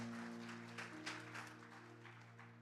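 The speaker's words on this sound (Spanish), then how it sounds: "Denle un aplauso a Cristo en esta hora" A church congregation claps for Christ during a Spanish-language sermon, a soft, fairly steady patter of applause with a low hum beneath it.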